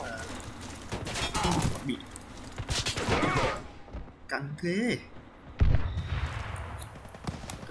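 Onyx AK-12 rifle fire in the shooter game Warface, with bursts of rapid gunshots and thuds crackling through the first seconds and again later, while someone talks over the shooting.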